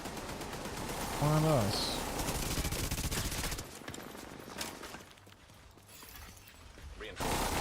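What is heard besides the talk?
gunfire in a video game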